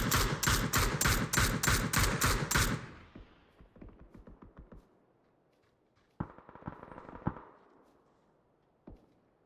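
A rapid string of automatic gunfire rattles through a PUBG pro scrim match, then thins into scattered single shots and a later short burst, some sounding more distant.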